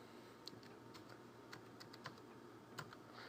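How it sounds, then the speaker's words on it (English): Keys tap on a computer keyboard as a password is entered into point-of-sale software, a short quiet run of about a dozen irregular clicks. "Let's type that in now."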